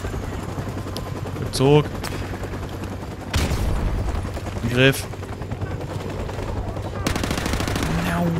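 Gunfire in Call of Duty Modern Warfare during a firefight: loud bursts and single shots ring out, with a couple of sharp whistling booms, over a steady noisy battle background while someone speaks German.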